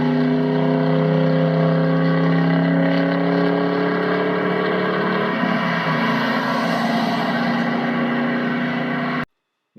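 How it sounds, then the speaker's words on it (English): A 2004 Ford Mustang GT with its 4.6 liter V8 passes by at speed in a higher gear, a loud, sustained engine drone with steady pitch shifts that cuts off abruptly at the end. "here's a little sound clip of the car driving by as he's going probably into third, fourth gear, maybe even in fifth gear"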